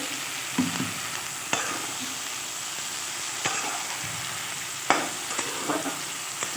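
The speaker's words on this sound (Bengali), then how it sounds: "ভালোভাবে পোস্ত বাটাটা ডাঁটাগুলোর সঙ্গে মিক্স করে নেব" Soft scraping and occasional clinks of a spoon stirring mustard-poppy seed paste with drumstick stalks and green chillies in a pan, with a faint sizzle under it and sporadic stirs over several seconds.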